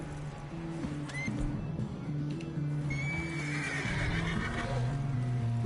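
Horse whinnying in a video game during a horse-hunting session, a drawn-out neigh rising clearly over a steady music-and-ambience bed, with a shorter call near the start and soft hoof clatter.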